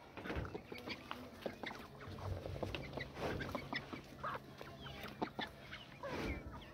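Several chickens cluck softly and irregularly up close while eating near food and water, with quick pecking taps and rustles mixed in at a low volume.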